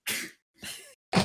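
Three sneezes in a row, each a sharp breathy burst, close and loud with short silent gaps between them.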